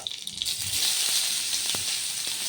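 Mustard seeds and a green chili fry in hot ghee, a steady, fairly loud sizzle with scattered sharp crackles and pops.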